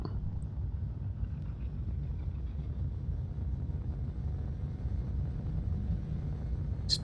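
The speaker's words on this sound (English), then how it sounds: "Switch on the engines." Spaceship engines in the game Space Engineers, a steady low rumbling drone that holds evenly throughout without any change in pitch or level.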